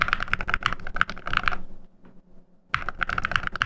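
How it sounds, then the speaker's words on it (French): Fingers type rapidly on a mechanical gaming keyboard with custom Tryhard switches, producing dense bursts of crisp clicking keystrokes that stop for about a second of near silence and then resume at the same quick pace. "On utilise des switches exclusifs Tryhard créés sur mesure, avec une sensation fluide et un son toujours aussi agréable."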